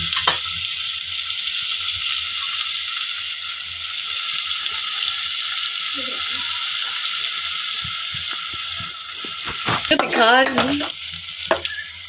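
Eggplant sizzles and fries steadily in a hot pan as it browns, a bright continuous crackle broken near the end by a few stirring scrapes and a brief word from a woman.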